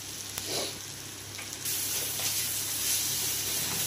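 Curry sizzles softly in a pan as turmeric goes in, a quiet hissing fry that swells a little partway through and carries on steadily without talk.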